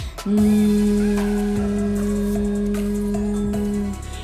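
A human voice imitates a swarm of mosquitoes and blackflies with one steady, loud, nasal buzzing hum held for about four seconds.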